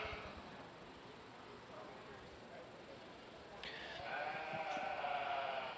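Sheep and goats bleat at a county fair livestock show, with a few calls rising over a steady crowd murmur in the barn.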